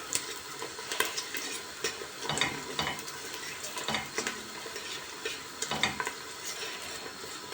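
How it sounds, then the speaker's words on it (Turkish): Food being stir-fried in a hot pan on a stovetop, a steady crackling sizzle broken by repeated scraping and stirring strokes of a utensil against the pan, close and moderately loud with no talking. "Şöyle de kavuralım."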